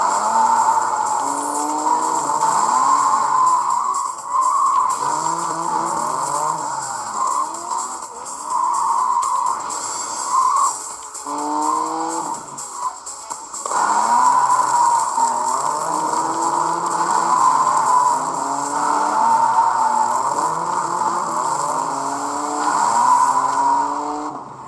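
Sustained engine roar from a racing video game car drifting, played through the Sudachi emulator on a Retroid Pocket Flip 2, with revs rising and falling in repeated sweeps and tire squeal, loud and continuous with a short dip midway.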